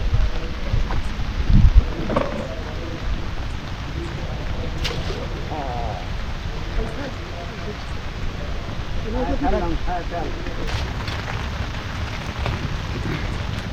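Heavy storm rain pours over a rough river during hilsa fishing from a boat, a dense steady roar with a low rumble of thunder near the start and voices faintly heard over it.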